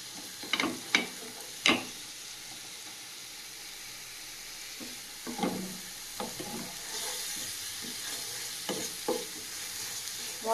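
Large koi fish frying in spice paste and oil, a low steady sizzle broken by a few sharp clacks and scrapes of a utensil against the pan, close by.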